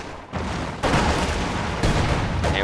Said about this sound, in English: Everyone's actually shooting at him.